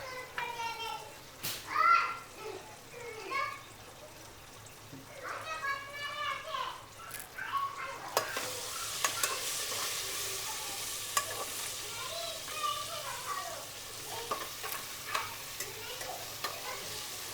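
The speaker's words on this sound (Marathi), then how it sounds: "अद्रक लसूण पेस्ट पण चांगली फ्राय करून घेते" Ginger garlic paste frying with tomato in a pan for chicken biryani, a steady soft sizzle with stirring scrapes running under a woman's speech and children's voices in a home kitchen.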